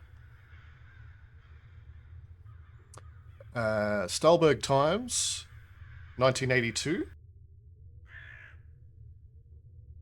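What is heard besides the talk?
distant crows cawing in the video game INFRA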